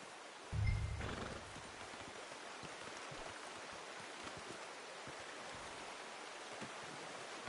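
A pack horse gives a short, low snort or whinny close by, then scattered soft hoof thuds and shuffles continue over a steady outdoor wind-like hiss.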